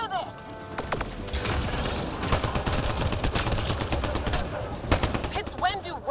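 Dense rapid gunfire in the sci-fi shooter Mass Effect Andromeda, a continuous barrage of shots and impacts with game effects and voices mixed in throughout.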